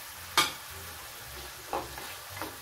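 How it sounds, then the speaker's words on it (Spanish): Chopped bacon tipped into a pan of caramelizing onion, a faint steady sizzle punctuated by three sharp scraping stirs, the first loudest, with no speech. "vertimos acá nuestro bacon o tocino picado"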